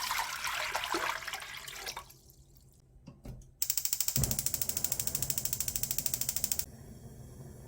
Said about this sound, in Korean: 먼저 육수를 끓이기 위해 물 2리터를 부어주고요